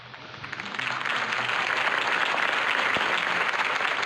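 Crowd applause breaks out after Harvey Dent's campaign speech in a Batman video game, starting modestly and swelling within a second into a dense, steady ovation that holds to the end.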